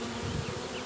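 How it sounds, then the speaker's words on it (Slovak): Honeybees swarming around hives, a dense continuous buzz of many insects, steady and close with no voices. "evidentne sú včely v rojovke a ani som si to nevšimol"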